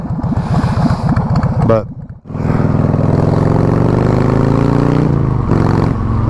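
A Harley-Davidson Sportster motorcycle engine loud and close, a lumpy throbbing idle that briefly cuts out, then roars back and revs with a rising, rich rumble; a single spoken word is barely heard.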